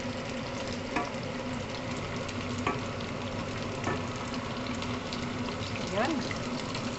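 Luncheon meat frying in a pan gives a steady, close sizzling hiss that runs the whole time, with a few soft clicks and scrapes. A voice speaks faintly in the background.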